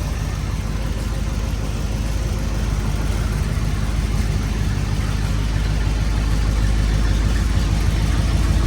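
A Kia Soul engine runs steadily at idle with a worn, failing air-conditioning compressor bearing, giving a continuous close mechanical drone with rough low rumble throughout.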